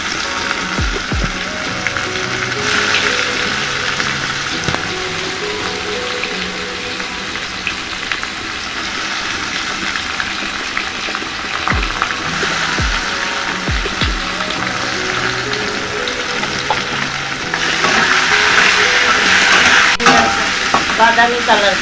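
Sliced onions fry in a hot pan for a village-style chicken curry, giving a steady loud sizzle. A spoon scrapes and clanks as it stirs, and a few sharp knocks sound against the pan.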